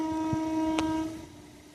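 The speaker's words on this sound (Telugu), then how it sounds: "ఇప్పుడు గూడ్స్ రైలు ఏదో వస్తుంది దూరంగా కనిపిస్తుంది" A freight train horn sounds steadily from a distance, a long sustained tone with a brief sharp clank partway through, fading slightly toward the end.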